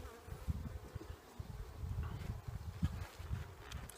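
Honeybees buzz steadily and fairly close during a beehive inspection of a split hive, a dense low hum with small swells and no talking.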